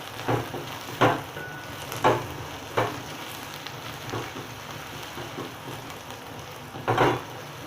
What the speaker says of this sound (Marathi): एक चमचा आलं लसूण पेस्ट टाकायची आहे आणि चांगलं मिक्स करून घ्यायचं आहे चांगले तेलामध्ये असं भाजून घ्यायचे ते आलं लसूण पेस्ट